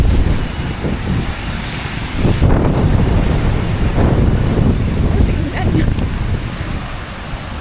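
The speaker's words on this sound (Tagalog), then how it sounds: "Grabe ang hangin." Strong typhoon wind at a railway station platform buffets the microphone in loud, rumbling gusts, a continuous roaring blast with surging swells; a voice may be faintly present.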